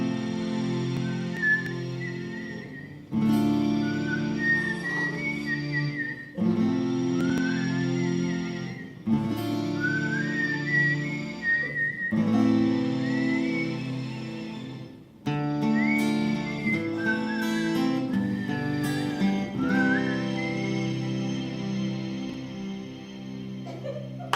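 A person whistles a melody from a song in several phrases separated by short pauses, clear and fairly close, with faint room sound between the phrases.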